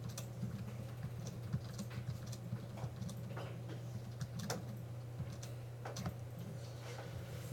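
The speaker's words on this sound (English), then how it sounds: "let's type in some numbers" Numbers typed on a computer keyboard: a run of soft, quick key clicks in an irregular rhythm over a steady low electrical hum, fairly quiet and with no talking.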